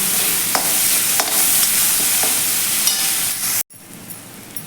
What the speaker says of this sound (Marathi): आता हे आपण व्यवस्थित मिक्स करून घेऊया एक एखाद मिनिटभर आपण हे लसणाचा कच्चेपणा जाईपर्यंत छान असं आपण परतून घ्यायचं आहे